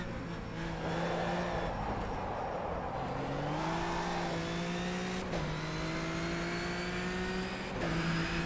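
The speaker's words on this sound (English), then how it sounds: "I don't know what's going on with the tyre skid sounds in this." A GT4 race car in the iRacing simulator drives steadily with an engine drone, while tyre skid noise squeals in long sliding tones that rise and fall for several seconds, with no talk.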